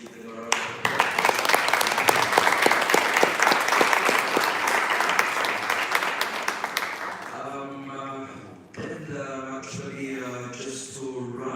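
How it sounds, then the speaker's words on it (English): A conference audience gives a round of applause, dense and sustained for about seven seconds, then fades out as a speaker's voice takes over. "Can we just give them a round of applause?"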